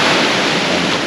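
Ocean waves crashing near a pier in San Juan, a dense, continuous roar of surf and spray filling the short moment, loud and close with no voices.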